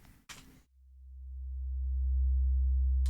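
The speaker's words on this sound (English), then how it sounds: "So this is my sine wave right here." A soloed synthesizer sine wave swells in after a couple of brief noisy bursts, building into a low, sustained hum with faint upper harmonics as infinite reverb smears it, growing steadily louder and pulsing slightly.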